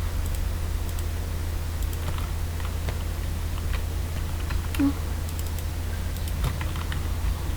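An old, long-used computer mouse clicks in quick, irregular bursts during PvP combat practice, sharp close ticks scattered over a constant low electrical hum.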